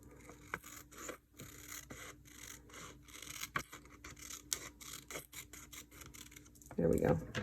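Paper being trimmed along the bottom edge of a handmade journal cover, quiet repeated rasping and scraping strokes close by, with soft rustles and a louder scrape near the end.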